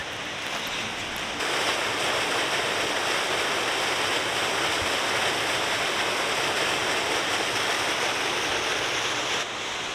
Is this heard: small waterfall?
yes